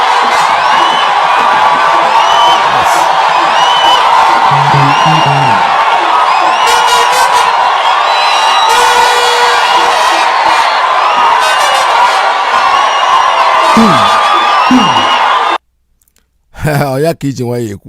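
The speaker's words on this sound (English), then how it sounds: "Look at the crowd. The crowd went ecstatic." A large crowd at a pro-Biafra rally cheers and shouts ecstatically, a dense, loud, sustained roar with whoops and scattered voices, then breaking off abruptly near the end before a brief burst returns.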